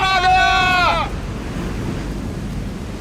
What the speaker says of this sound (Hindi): समुद्री लहरें इतनी ऊपर उठकर हमारी तरफ आ रही हैं।